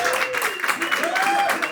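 A live comedy roast-battle audience in New York applauds the comedians, with steady dense clapping and crowd noise sustained throughout the short moment.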